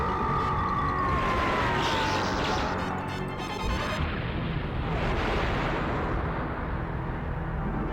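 The final boss blowing up at the end of Diddy Kong Racing on the Nintendo 64, a loud rumbling crash of game explosions with a falling whistle at the start, sustained for several seconds without talk.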